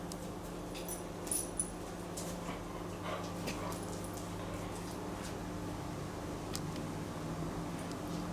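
Faint puppy noises at a distance: soft whimpers and light scuffling over a steady background hiss.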